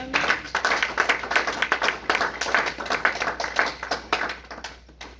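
A church congregation claps together to acclaim the Lord, a dense, lively run of overlapping handclaps at a brisk rhythm, fairly close and fading slightly at the end, with no speech over it.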